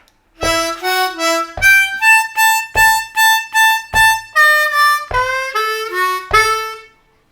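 A blues harmonica plays a short phrase of chords and single notes in a rhythmic pattern, from a song intro, loud and close, with no talking.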